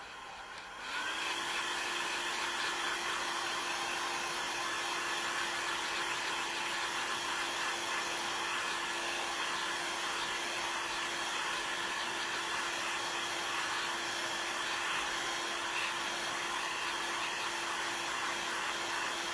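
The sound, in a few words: hair dryer drying a salvaged craft item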